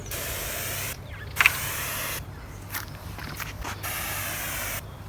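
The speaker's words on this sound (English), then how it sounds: "There's like a fine mist, and that sprays a wider area, but it barely looks like it's making the ground wet at all." A weed sprayer nozzle set to a fine mist hisses in steady bursts, each spray running about a second before cutting off, close and fairly loud, with a brief scrape between.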